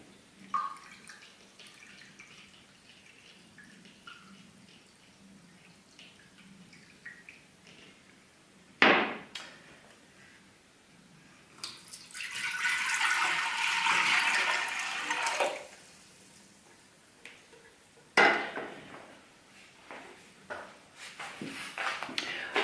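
Water is poured into a pot to make sugar syrup for a myrtle liqueur, a steady splashing stream lasting several seconds between brief clunks and handling noises, close and fairly loud.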